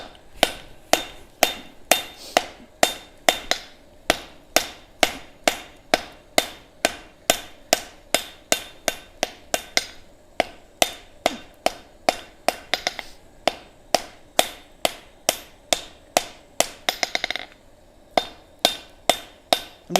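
A hammer rings steadily on metal at an anvil beside a gas forge, dozens of sharp evenly spaced blows over twenty seconds, close and bright, with a brief flurry of lighter taps near the end.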